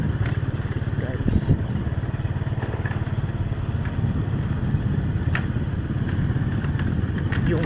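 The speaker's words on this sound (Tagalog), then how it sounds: "yung motor namin guys parang kabayo na" Motorcycle engine running steadily on a dark road at night, a continuous close, low rumbling drone with some clatter, while a voice speaks intermittently over it.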